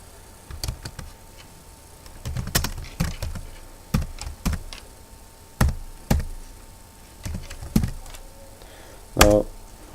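A command is typed on a computer keyboard in irregular bursts of close, crisp key taps with short pauses between, ending in a firmer strike like the enter key.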